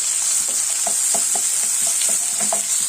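Small shallots and coconut pieces for Kerala beans mezhukku puratti fry in a pan with a continuous close sizzle, while soft scattered clicks and scrapes of stirring come through and no one speaks.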